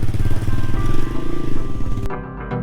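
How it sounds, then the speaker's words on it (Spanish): A motorcycle engine chugs along loudly and close, then cuts off abruptly near the end. "Llegamos hasta aquí en moto."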